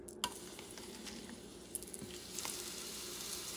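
Mushrooms sauté in oil in a pan over heat just below medium, giving a quiet, steady sizzle with small crackles and an occasional stir, and no talking.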